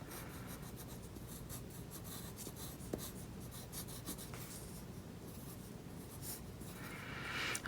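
A pen draws a person on paper in continuous scratchy strokes, a steady close-up rubbing and scraping on the page with a few louder ticks, then brighter rasping toward the end.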